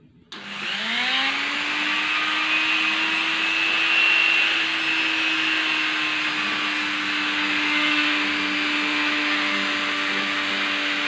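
A mini grinder fitted with a drill bit whines at a steady high pitch at medium speed as it bores into the wooden hilt of a kris, running continuously close to the microphone.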